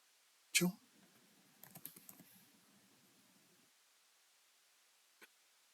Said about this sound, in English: Let me just type in his name, Donovan Mitchell, and see.